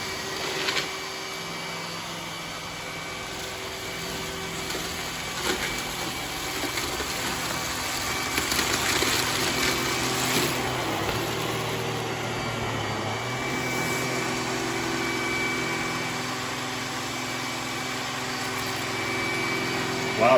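An iRobot Roomba S9+ robot vacuum runs over a hardwood floor with a steady whirring motor drone and a high whine, fairly loud and continuous, with small shifts in pitch as it moves.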